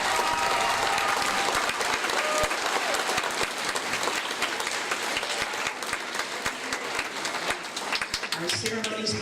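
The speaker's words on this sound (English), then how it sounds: "Please give them a round of applause" A crowd at the Miss Salem pageant gives sustained applause, dense clapping filling the hall with a few sharper claps close by.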